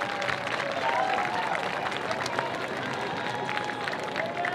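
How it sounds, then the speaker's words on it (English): Students at a career magnet school graduation ceremony applaud their families, a sustained, moderately distant wave of clapping across a large hall with some crowd noise mixed in. "give them a round of applause, students."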